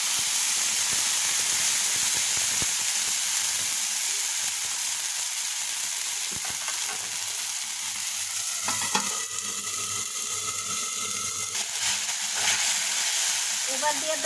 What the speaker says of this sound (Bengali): একটু পানি দিয়ে দিলাম মশলা কষানোর জন্য।